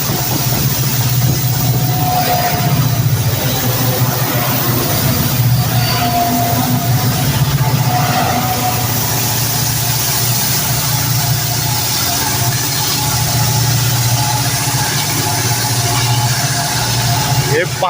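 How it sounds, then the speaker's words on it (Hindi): A long train hauled by five locomotives on a ghat section, two at the front and three at the rear, gives off a loud, steady, low diesel engine rumble that continues without a break, with voices talking over it. "ये 5 इंजन की ट्रेन है दोस्तों"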